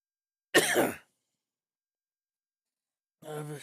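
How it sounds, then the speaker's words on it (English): A single short, harsh cough close by, then silence before a voice starts speaking. "All this coughing."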